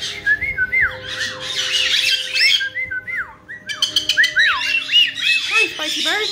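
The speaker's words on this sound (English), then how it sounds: "Hi, Spicy Bird" A pet parrot squawks and whistles over and over in sharp, loud bursts close to the listener, with short sliding calls in quick succession and a brief pause in the middle, while a person speaks softly underneath.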